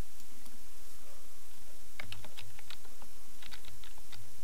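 Typing on a computer keyboard while entering a map title, with a steady run of quick key clicks that start about halfway through and continue to the end over a faint background hiss.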